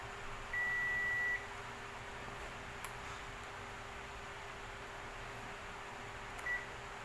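Multimeter continuity beeps while testing transistors and diodes on a 150-watt OCL power amplifier board: one steady tone lasting under a second, then a faint brief second beep, over quiet hiss.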